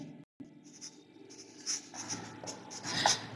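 A pen or marker writing out working for a right-triangle trigonometry problem in a Class 10 maths lesson, a steady soft scratching that grows louder toward the end, with a brief silent gap near the start.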